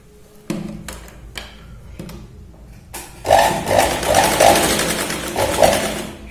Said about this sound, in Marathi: शोल्डरला 1, 2 ते 3 वेळा आपण शिलाई लावून दोघे शोल्डर इथे व्यवस्थित मॅच करू.